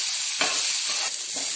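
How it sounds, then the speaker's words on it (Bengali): Garlic, green chili and shrimp frying in a pan with a loud, dense, continuous sizzle close to the microphone, with a couple of brief stirring swells. "দেখুন আমার রসুন, কাঁচা লঙ্কা, চিংড়ি মাছ সব ভাজা ভাজা হয়ে গেছে।"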